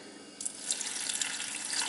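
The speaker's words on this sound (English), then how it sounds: "So we're just going to keep adding the water." Water running from a tap into a crock pot of beef bones, bay leaves and broth ingredients, a steady close splashing pour that grows louder after the first moments.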